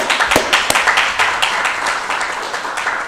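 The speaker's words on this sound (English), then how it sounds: "I'd like to give y'all a round of applause." Applause at a regular city council meeting: close, dense clapping from the room for about three seconds, gradually thinning toward the end.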